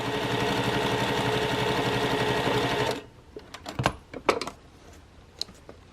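A sewing machine whirs steadily for about three seconds of rapid stitching, then stops, followed by a few light clicks and taps of fabric handling.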